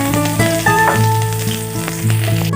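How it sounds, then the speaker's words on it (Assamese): Chopped garlic and chillies hit hot oil and sizzle loudly and close, with a few clinks of a utensil against the pan over a steady tonal hum. "সেইটো গৰম হৈ গ'ল আৰু মই কাটি লোৱা নহৰু আৰু জলকীয়াখিনি ইয়াতে দি লৈছোঁ"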